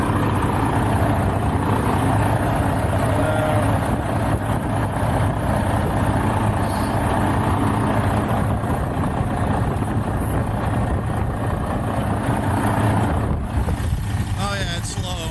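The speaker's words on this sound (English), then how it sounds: "the engine's got to be running, AC's got to be on." A truck engine idles with its air conditioning running in a parking lot during a snowstorm, a loud, constant, rumbling drone with a steady mechanical hum throughout, with a voice faintly audible in places.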